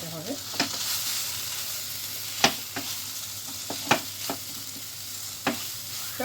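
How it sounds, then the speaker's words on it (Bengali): Spiced potato filling with amchur and dry ginger powder being stirred in a sizzling pan for khasta kachori, with a steady fry hiss broken by sharp spatula scrapes and taps at irregular intervals. "এগুলোকে খুব ভালো করে নাড়াচাড়া করে নিতে হবে।"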